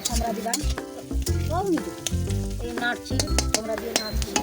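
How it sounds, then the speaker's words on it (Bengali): Onion, green chili and whole spices frying in hot oil in a wok, with a loud steady sizzle broken by repeated sharp scrapes and clanks of a spatula stirring close by. "প্রথমে কড়াইতে তেলে তেল দিয়ে তাতে পেঁয়াজ কুচি কাঁচা লঙ্কা কুচি এবং ফোড়ন দিয়ে"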